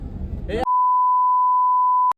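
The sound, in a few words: phone busy signal tone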